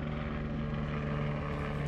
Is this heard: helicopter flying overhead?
yes